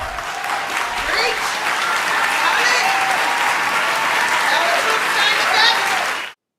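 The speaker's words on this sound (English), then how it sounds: "People are cheering for that?" A Golden Globes awards audience claps and cheers loudly in a sustained, dense roar with whoops and voices rising over it, then cuts off abruptly.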